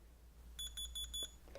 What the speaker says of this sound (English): It beeps, which means the key lock feature is now off.